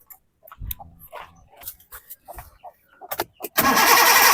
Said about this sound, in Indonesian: Kita coba lagi starter apakah sudah hidup apa belum